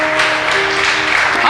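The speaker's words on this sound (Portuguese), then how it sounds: "aplauda o Senhor em nome de Jesus" A church congregation claps during a Pentecostal service, a loud, even burst of applause lasting a moment, with a voice faintly audible beneath it.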